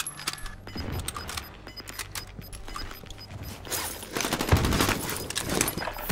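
Rapid bursts of gunfire in the video game Warzone, sharp cracking shots spread across the clip, growing denser and louder toward the end, with no talk over them.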